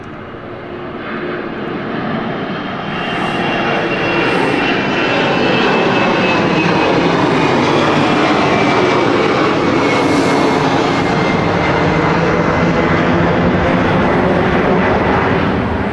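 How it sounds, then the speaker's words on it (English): An Embraer airliner takes off from London City Airport bound for Glasgow, its engines building from a steady roar into a loud, sustained full-power drone with a faint rising whine across the runway. "So out to Glasgow, this aircraft."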